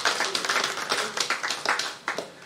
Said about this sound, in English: Shall we have some applause for that?